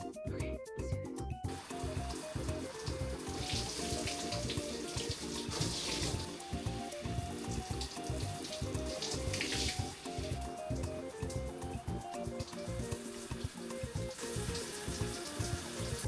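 Running water in a shower while someone washes off, a steady hiss and splatter of spray with shifting intensity as the stream hits body and surfaces, continuous and fairly close, no speech.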